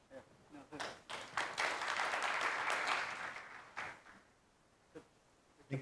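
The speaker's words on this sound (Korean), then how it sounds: "큰 박수로 맞이해 주시길 바랍니다." Forum audience clapping to welcome a guest onto the stage, a swelling round of applause that peaks in the middle and fades after about four seconds, with faint speech around it.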